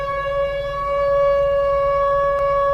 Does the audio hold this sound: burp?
no